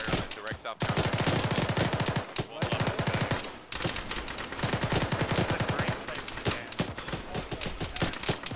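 Sustained automatic gunfire from a ShackTac military game firefight, rapid bursts hammering close and loud for most of the stretch with only brief gaps between volleys.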